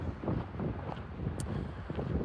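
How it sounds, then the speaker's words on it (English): Strong wind on a cool morning on the Pacific Crest Trail near Mt. Baden Powell buffets the microphone in a steady, low rushing roar with gusty swells, continuous and fairly close. "We got a strong breeze."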